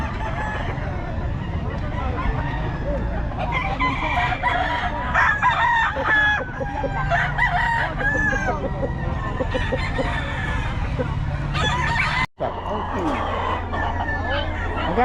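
Chickens cluck and a rooster crows amid a busy outdoor poultry sale, with people talking nearby and a vehicle passing faintly.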